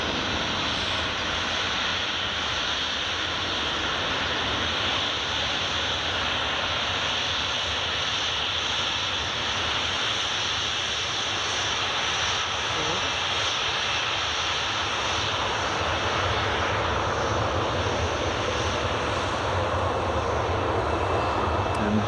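A TUI jet airliner taxis at Glasgow Airport, its engines giving a steady, distant whine and roar that stays even and unbroken with no voices.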